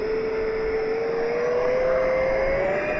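A Freewing Avanti S V2 RC electric jet on a 6S Li-ion pack makes a fast pass, its ducted fan whining loud and steady with a tone that slowly rises, over wind noise throughout.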